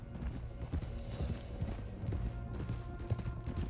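Horse hooves clip-clop steadily on the ground in the Red Dead Redemption 2 video game, a quiet, even rhythm of hoofbeats near at hand with no talk.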